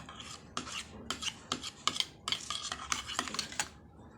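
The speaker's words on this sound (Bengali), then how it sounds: "এবার এই ইনগ্রিডিয়েন্টসগুলোকে ভালোভাবে মিক্সিং করে নেব" A raw milk and honey face pack mixture is stirred by hand, with a dozen or so close, rhythmic scraping and rubbing strokes against the container and no voices.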